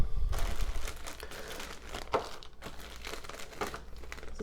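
Plastic bags of board game standees being handled and packed, a steady stream of close crinkling and rustling with a few sharper crackles, no voices.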